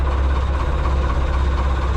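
A 40-year-old tractor engine idles steadily, a low continuous rumble with an even throb that stays loud and close throughout, with no voices.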